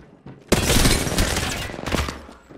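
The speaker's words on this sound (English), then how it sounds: "Why are you shooting at me?" Heavy automatic gunfire from a first-person shooter game erupts loudly after a brief pause and sustains as rapid bursts for about two seconds, tapering near the end.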